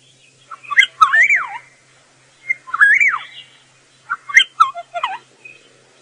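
Liquid, whistled bird calls rise and fall in three close bursts during an evening safari drive in the South African bush, each burst made of rippling slurred notes separated by short quiet gaps.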